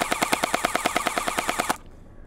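A Nerf Gelfire Mythic gel blaster fires in rapid full-auto, about sixteen sharp, evenly spaced shots in under two seconds, loud and close, then stops abruptly.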